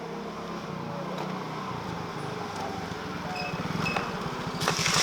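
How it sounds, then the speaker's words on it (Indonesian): A stalled motorcycle engine struggles to start, giving a steady, close, low pulsing mechanical rumble that grows louder toward the end. "Kenapa bang motornya? Mogok?"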